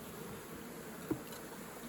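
Honey bees fan at the entrance of a swarm trap, a steady close buzzing drone throughout with one brief tap partway through.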